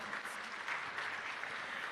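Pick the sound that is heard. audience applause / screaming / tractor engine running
audience applause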